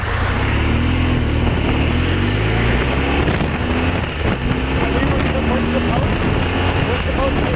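A voice imitating a motor engine, a continuous low rumbling drone with wavering pitch held steadily throughout, close and fairly loud, with wind-like noise over it.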